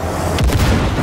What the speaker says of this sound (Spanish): Si les tiras una granada